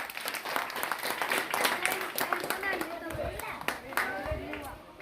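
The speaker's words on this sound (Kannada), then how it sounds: "ಒಂದ್ಸಲ ಜೋರ ಚಪ್ಪಾಳೆ" Audience applause at a village magic show, a dense patter of many hands clapping for several seconds at steady loudness, with crowd voices mixed in underneath.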